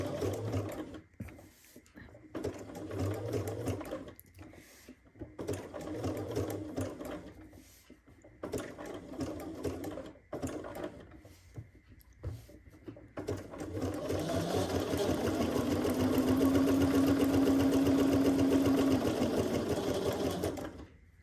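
Sewing machine stitching a Holly Jolly quilt block, a steady mechanical whir that stops and starts in bursts, then runs longer and louder near the end, with no talking over it.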